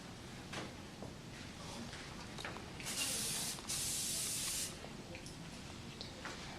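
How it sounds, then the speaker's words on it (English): A hair spray can releases two sustained hissing bursts, one after the other, while hair is smoothed for a bridal ponytail updo. The bursts are close and fairly loud over a quiet room background. "So I use this spray to smooth the cuticle of the hair."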